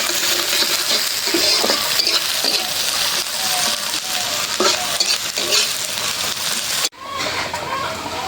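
Onion and a bay leaf frying in a pan while being stirred for a hilsa fish dish, with a steady close sizzle, clinks and scraping of the utensil, and a sharp break near the end.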